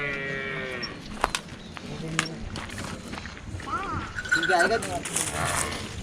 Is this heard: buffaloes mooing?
yes